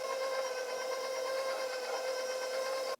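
An electric mixer beats white chocolate chip, cranberry and macadamia cookie dough, giving a steady, close motor whine that holds constant for about three seconds and then cuts off abruptly.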